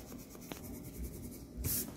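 Yellow colored pencil rubbing across paper, a soft, steady scratchy scribble close by and faint throughout, with a brief louder swish near the end.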